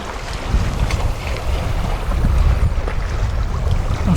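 The Mingming II sailboat under way at sea off Hopen, with steady wind buffeting and a deep churning rush of water and hull noise throughout, fairly loud and continuous, no voices.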